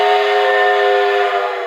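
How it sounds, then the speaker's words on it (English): A loud, steady steam whistle from the sound system of a Mogul locomotive, a Blunami DCC O gauge model train, sounding as one continuous, full chord held at close range, alone. "right now it's got a pretty good whistle"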